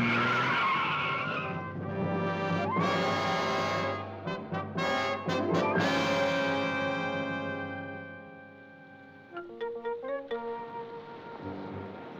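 A car drives past with a rising engine and a long, loud tire skid, the motor fading before a short burst of further engine revving at the end.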